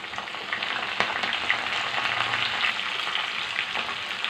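Hot oil sizzling steadily as dried red chillies, garlic, cumin and curry leaves fry for a sambar tempering, a continuous crackling hiss with small pops, close and alone.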